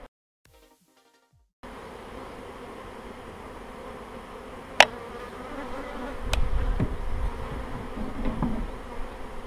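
Honeybees buzzing around a hive in a continuous droning hum that swells louder in the second half, with a few sharp clicks and handling knocks nearby after a brief quiet start.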